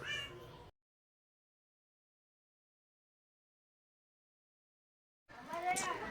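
A cat meows briefly at the start, then a long silence, followed by another drawn-out meow near the end.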